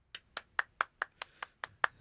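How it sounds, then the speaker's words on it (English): A single person claps hands in a steady rhythm, about ten sharp, close claps over two seconds with quiet gaps between them. "It was a pretty solid clap."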